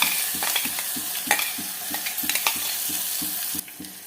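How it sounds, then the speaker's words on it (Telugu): Green chili paste fries in hot oil with a bright, constant sizzle. A spoon stirs it in a quick, regular scraping rhythm, about three strokes a second. The sound is close, with no talking. "ఇప్పుడు ఈ పచ్చిమిర్చి పేస్ట్ పచ్చి స్మెల్ పోయేంత వరకు కలుపుకుంటూ ఆయిల్లో మంచిగా ఫ్రై చేసేసుకోవాలి"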